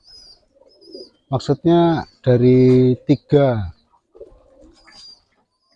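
Young pigeons in training coo in several clear rounded bursts close by, with a short spoken phrase and light background noise in between.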